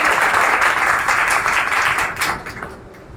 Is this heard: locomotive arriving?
no